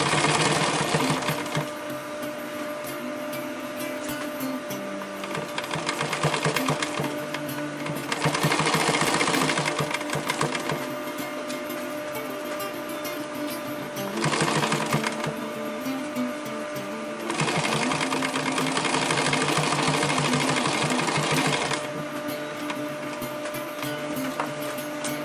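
A sewing machine stitches back toward the starting point on an EDC organizer, running in several sustained bursts of rapid mechanical whirring separated by quieter pauses.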